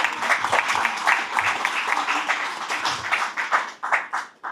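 An audience at a civic gathering breaks into applause, a dense patter of clapping that is fairly loud and near. It keeps going at full strength, then begins to thin out toward the end.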